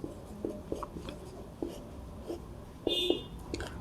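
A pen scratches across paper while math is written out by hand in short strokes and pauses, close and soft against a steady background hiss, with one brief brighter scrape near the end.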